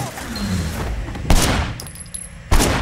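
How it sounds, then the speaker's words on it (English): Gunfire in an open-world video game, with two sharp, loud shots about a second apart standing out over a rushing background. "Oh yeah, these guys, I'll just shoot them."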